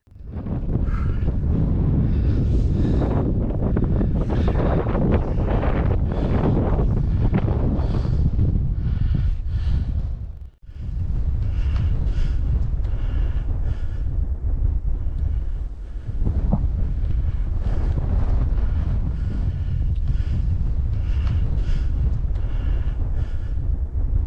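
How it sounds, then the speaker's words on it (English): A strong gale roars continuously across open moorland on a long-distance walk, heavy wind buffeting the microphone almost throughout, with a brief lull midway before the blustery rush resumes. "I hope you can hear me over the wind because it's blowing a gale"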